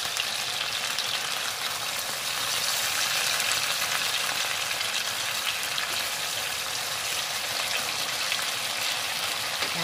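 Chicken frying in a pan with barbecue sauce, giving a steady, bright sizzle that runs unbroken at close range with no talking.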